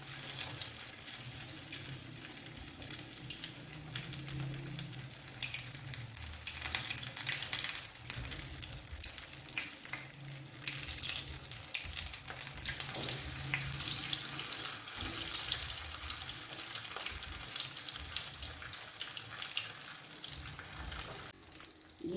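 Potato egg sticks fry in oil, producing a dense, continuous bubbling hiss that stays fairly even and close throughout, with no voices heard.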